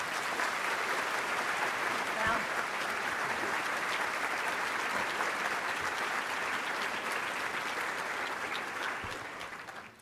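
An audience gives sustained, dense applause to welcome Susan Ford Bales, a steady wash of many hands clapping that holds for several seconds before tapering off at the end.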